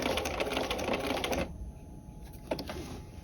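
A sewing machine stitches a peplum sleeve cuff in a dense, fast whirring burst that stops abruptly, followed by a quiet pause and a small click, close and moderately soft.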